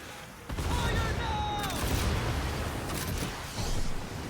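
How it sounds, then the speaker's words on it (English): Torpedoes from a schooner striking an enemy ship in the naval game Skull and Bones, heard as a dense, sustained barrage of booming impacts and crackling gunfire with swelling bursts, near and loud throughout. "as you can see, these torpedoes just rip"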